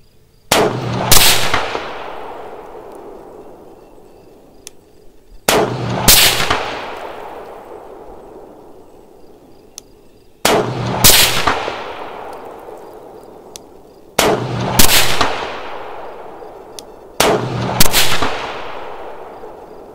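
Rifle shots firing Callaway Ballistics 77gr Sierra ammunition at a 500 range, five loud sharp reports spaced a few seconds apart, each cracking hard and trailing off in a long echoing decay outdoors.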